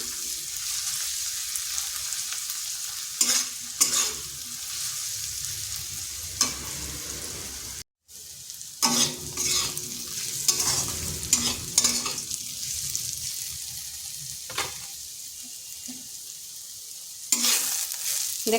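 Bitter gourd and potato pieces fry over medium-low heat in a pan with turmeric and chili powder, making a continuous soft sizzle. Repeated scraping stirs break through it, with one brief dropout partway and no voices.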